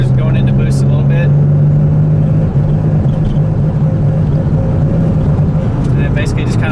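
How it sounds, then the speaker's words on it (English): A misfiring 2JZ-GTE engine in a swapped MK4 Toyota Supra drones loudly as it comes onto boost, with rough sputtering and popping and a few faint clicks, under someone talking. "it basically just kind of like sputters and pops"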